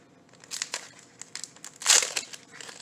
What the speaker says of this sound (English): Y'all want to see me crack packs.